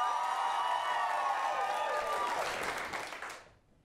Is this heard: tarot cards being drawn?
no